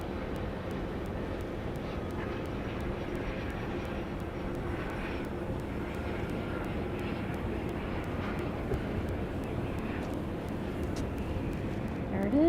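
An airplane arriving at Dallas Love Field airport makes a steady, even roar that holds at a constant level for the whole stretch and swells slightly at the very end.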